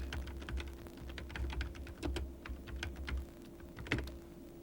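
Someone types on a computer keyboard, a steady run of close, light keystrokes with irregular rhythm and a few sharper taps, over a faint electronic hum.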